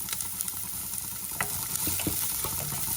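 Onions with a pinch of salt sauté lightly in a pan, a steady close sizzle with occasional soft taps and stirring clicks, no voices.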